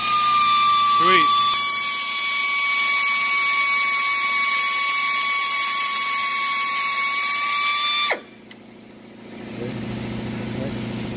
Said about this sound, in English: It almost drilled through the whole bolt, whatever is left of it.